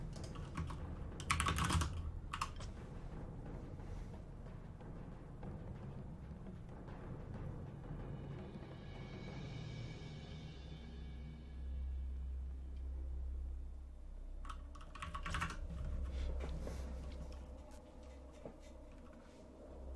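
Keys clack on a mechanical computer keyboard during a Warcraft 3 match, with short bursts of typing at the start and near the end, quiet gaps between and a low rumble underneath.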